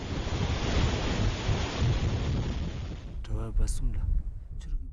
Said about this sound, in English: This rare footage shows a glacial lake outburst flood ripping through the village of Punaha in 1994.